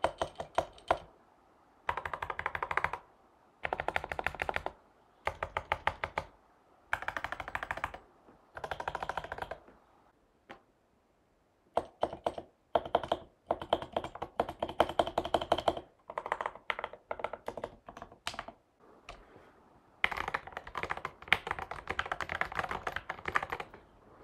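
Typing on a custom all-metal keyboard with aluminum keycaps and switches lubed with Krytox 205 Grade 0, heard as bursts of rapid close clacks separated by short pauses, with no talking.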